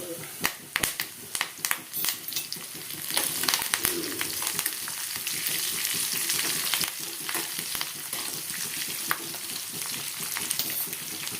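Garlic, a dried red chilli and curry leaves crackling and sizzling in a pan, with sharp spatters and stirring under intermittent talking.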